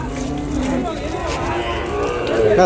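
Cattle and calves low and moo at a crowded cattle market in Vaniyambadi, busy ahead of Bakrid, amid steady crowd noise and people talking nearby.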